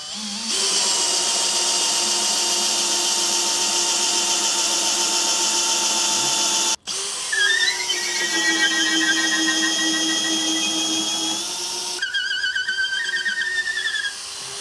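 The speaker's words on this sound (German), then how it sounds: "Und jetzt bohre ich in der Mitte ein Loch rein," Power drill boring a hole through the middle of a homemade wooden trough for a fountain overflow, a loud steady whine with a brief stop and restart, pitch shifting as the bit bites.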